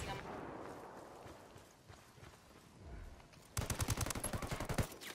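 Sniper gunfire in a shooter video game: after a stretch of muffled game ambience, a burst of rapid, sharp shots rings out in quick succession near the end.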